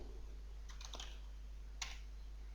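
Typing a name on a computer keyboard in a CSS editing program: two short bursts of close, quiet key taps over a steady low hum, with no voice.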